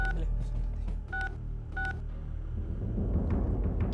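A rapid run of telephone keypad tones being dialed, three short beeps spaced about half a second apart, over a steady low background hum with faint voices.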